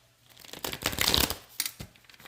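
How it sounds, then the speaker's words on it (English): A deck of tarot cards being shuffled in a few quick riffling bursts, a papery flutter peaking in the middle, close up with no talking. "We're going to shuffle these cards 5 times."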